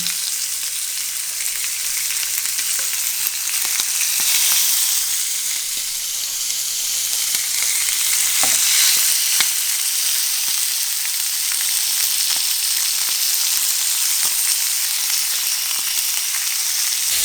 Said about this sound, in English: I'm going to pan sear these lamb chops, these lamb ribeyes, very slowly.